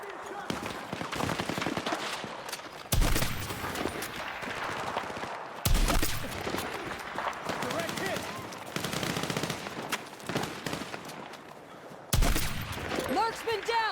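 Gunfire from a video game trailer, with rapid machine-gun bursts and sharp shots amid music and action effects, sudden loud hits recurring, with voices heard over parts of it.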